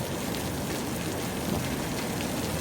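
Heavy rain pours steadily during a tropical storm in Xaisomboun, Laos, a dense, even hiss of downpour that stays constant throughout, with no voices.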